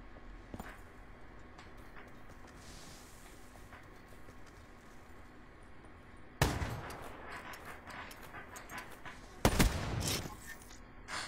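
Two sharp, loud gunshot blasts ring out in Call of Duty on the map Splash from the Awakening DLC, spaced about three seconds apart and each followed by a short echoing tail over a quiet background of game ambience.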